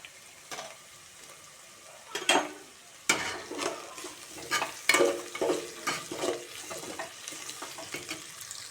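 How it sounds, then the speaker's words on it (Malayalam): Chopped ginger hits a hot pan for kappa biryani, bringing irregular crackling sizzles and stirring clatter, with louder bursts as the pan is worked. "അരിഞ്ഞ ഇഞ്ചി ചേർത്ത് കൊടുക്കാം."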